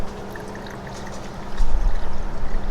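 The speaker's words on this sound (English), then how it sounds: "Go ahead and just pour whatever flush you have into the system." Coolant flush pours into the cooling system of a 1937 Ford Slantback, a gentle trickle that swells into a louder glugging pour halfway through, close by and without speech.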